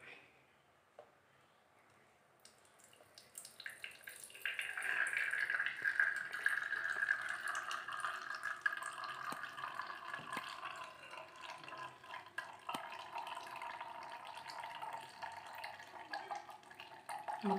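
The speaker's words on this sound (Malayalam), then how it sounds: "ഇനി ഇതൊന്ന് അരിച്ച് ഗ്ലാസ്സിലേക്ക് ഒഴിക്കാം." Coconut lime juice, blended with coconut, strained and poured into a glass: a steady liquid trickle and splash that builds after a quiet start and runs on continuously, close and moderately loud.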